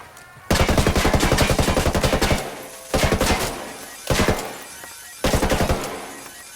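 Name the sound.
gunfire in video game Ghost Recon Wildlands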